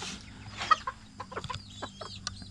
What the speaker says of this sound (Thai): เดี๋ยวพามาเบิ่งไก่เพิ่นครับ